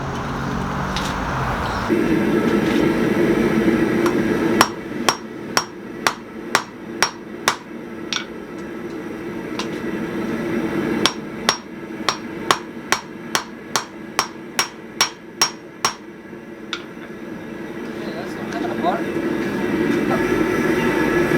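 A hot rivet is hammered on blacksmith slot-jaw tongs in two rapid runs of ringing steel blows, evenly paced and loud against a hum of shop noise and a short spell of talk.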